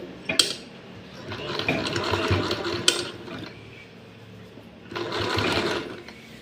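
A sewing machine runs in short stitching bursts, stopping and restarting, while sewing piping onto a blouse, with faint handling noises between runs.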